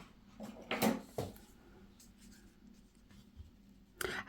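Pencil writing on paper during a craft session, a few short scratchy strokes and taps close by in a quiet room, with brief pauses between them.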